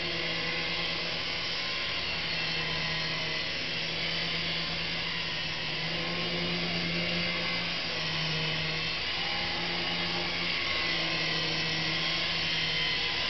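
Syma S109 Apache toy RC helicopter flying indoors, a continuous whining motor and rotor buzz, steady and fairly close throughout with slight pitch shifts as it maneuvers.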